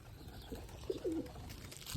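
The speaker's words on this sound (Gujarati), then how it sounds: "નવા કબૂતર ક્યાં ગયા નવું કબૂતર છે" Soft pigeon coos from a new pair among a loft of pigeons, a few short low calls around the middle of a quiet stretch with faint background noise and no talk.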